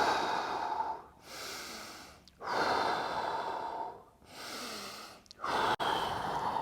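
Slow, deep breaths during foam rolling: three long drawn inhales and exhales in an even rhythm, close and clear, with no talking.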